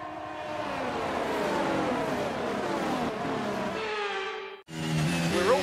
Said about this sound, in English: The formation lap gets underway and the excitement here is building as we near ever closer to the start of the race.